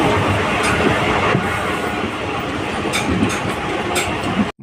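The Sainagar Shirdi weekly express, a passenger train running from Kadapa to Hyderabad in the morning, gives a loud, close, continuous rumble with rhythmic wheel clatter on the rails.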